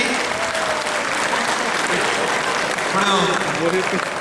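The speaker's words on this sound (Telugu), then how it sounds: "చప్పట్లు అడిగినా అడగకపోయినా మీరు చప్పట్లు కొట్టారు." An audience at a Kalanjali celebration in Muscat applauds, dense sustained clapping from a crowd throughout, with a voice briefly audible over it.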